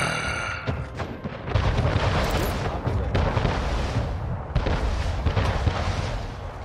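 Cannon fire and explosions boom through a naval battle in Anno 1800 as a ship is destroyed, a dense, loud series of heavy blasts and rumbling impacts following one another over several seconds.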